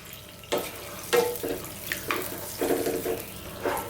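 Water splashes into a pot of lamb karahi curry on the bone in short, uneven pours, with a steady running-water wash between the bursts. No one speaks.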